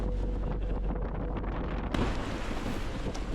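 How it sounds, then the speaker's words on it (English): High winds roar across a sailboat's microphone during a tropical storm at sea, a loud, constant buffeting rush with a sharp gust surge midway. "High winds."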